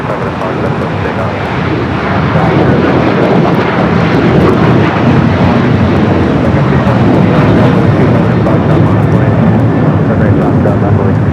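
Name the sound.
airplane taking off at LAX airport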